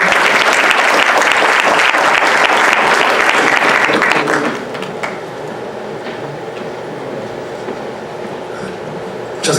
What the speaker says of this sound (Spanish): Recibamos por favor con un fuerte aplauso al doctor Javier Hurtado